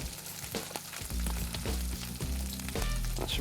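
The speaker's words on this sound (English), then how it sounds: "Now just warm them up. Give them a stir and just get some heat into there." Cooked lentils with spices warm in a pan, giving a sizzle and light scraping as they are stirred, over a loud, steady low hum that enters about a second in; close, no talking.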